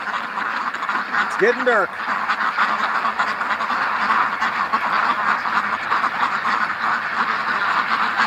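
A flock of ducks being herded into a pen on a lawn at dusk, with a brief burst of quacking standing out over steady outdoor background noise while a person talks.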